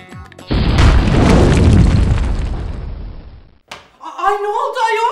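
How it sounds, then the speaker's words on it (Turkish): A gas canister left open explodes indoors as a huge, close boom that rumbles for about three seconds and then dies away, followed by a voice speaking. "Tüpü açık bırakmışsınız. Bu patlama o muydu?"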